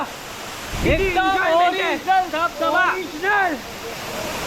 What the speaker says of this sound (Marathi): एकदा वांगणी धबधब्याला येऊन बघा